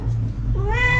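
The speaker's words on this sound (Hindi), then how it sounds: "थोड़ा सा म्याव कर दो, म्याव कर दो।" A pet cat gives one short, clear meow that rises and then bends downward. It is close and fairly loud over a low room rumble.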